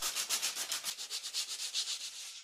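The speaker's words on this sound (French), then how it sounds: "Je vais simplement la poncer légèrement à la main avec du papier de verre" Sandpaper rubs by hand over a wooden shelf, light sanding with brisk, steady back-and-forth strokes about eight per second, close and fairly quiet, with no speech.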